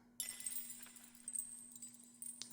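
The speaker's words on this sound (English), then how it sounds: "The lantern is my favorite sound in this." The lantern in the video game Animal Well gives off glass-like chimes, delicate clinks and a bright ringing shimmer over a faint steady hum, with a few sharper taps toward the end.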